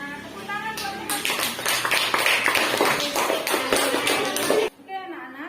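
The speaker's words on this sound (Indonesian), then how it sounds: "Tepuk tangan buat teman-teman" Schoolchildren in a classroom clap for their classmates, a lively burst of hand claps that stops abruptly near the end, followed by quiet.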